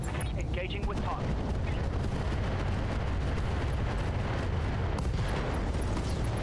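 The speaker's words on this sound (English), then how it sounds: "Explosion on the ghost, he's down." Battle explosions in the Battletech Roguetech mech game, a constant, heavy rumble of booms and gunfire with no pauses, loud and close.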